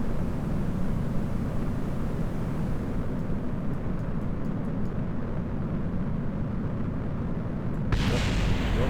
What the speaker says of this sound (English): Oh, bit of an explosion down there.